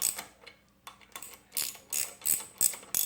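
A ratchet tightens 14 mm bolts on a Troybilt pressure washer, with quick bursts of clicking pawl strokes separated by short pauses, close and crisp, with no talk.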